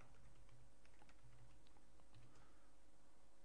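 Light, quick keystrokes on a computer keyboard while code is typed, a soft irregular patter of clicks with no talking, recorded close but quiet.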